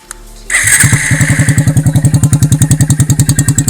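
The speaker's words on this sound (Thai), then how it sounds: "เดี๋ยวจะฟังเสียงท่อกันเลยนะฮะ" A Honda MSX motorcycle with a modified exhaust starts up close and loud, then settles into a rapid, throbbing idle with a steady, even pulse.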